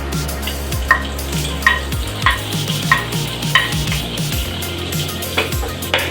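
Butter sizzling in a pan while it is stirred for a white sauce pasta, with regular scraping strokes about every half second over a steady frying hiss, close and clear, no talk.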